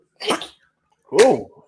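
Two sharp, breathy sneezes about a second apart, the second louder and more voiced, with silence between them.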